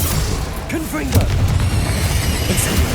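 Confringo fire spell blast in the Hogwarts Legacy game, a booming burst with crackling pops over a low rumble, while a voice speaks briefly.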